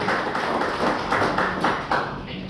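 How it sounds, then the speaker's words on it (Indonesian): A church congregation claps in a worship service, steady rhythmic hand clapping in regular beats, loud and close, with no talking. "Yuk kita berikan tepuk tangan sekali lagi buat Tuhan Yesus."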